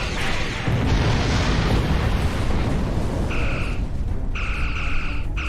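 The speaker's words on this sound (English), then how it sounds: "Continue firing phasers and torpedoes." Starship battle in Star Trek Online: a rumbling, roaring barrage of weapon fire and explosions, followed by two short, bright tonal phaser bursts.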